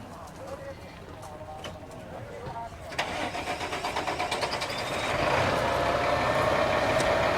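An old truck with a 300 Caterpillar diesel and 7-speed transmission cranks over at a farm consignment auction, chugging in rapid pulses before catching into a loud, steady idle, with people talking nearby.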